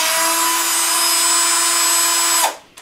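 A power tool removes screws from a Peugeot Elyseo 50 scooter, holding a steady, loud high-pitched whine for over two seconds before abruptly spinning down and stopping.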